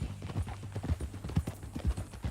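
Horse hooves clip-clop in Red Dead Redemption 2, a steady, close walking rhythm of repeated hoof strikes with no voices.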